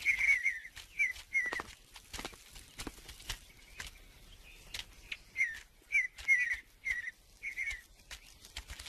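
Bright, repeated whistled bird calls ring out in short bursts across the high country in spring, with scattered clicks and rustles between them and no voices.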